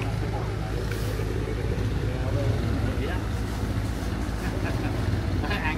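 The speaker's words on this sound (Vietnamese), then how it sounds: "Wow, có cano nữa kìa." A motorboat runs on a river at a busy floating market, its low engine drone steady beneath wind noise and nearby chatter, with people talking over it.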